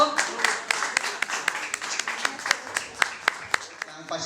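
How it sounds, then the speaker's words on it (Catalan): A hall audience applauds at a celebration event, steady mixed clapping with sharper individual claps standing out toward the end, while a voice speaks over the start. "un fort aplaudiment per l'Eric de l'Arco"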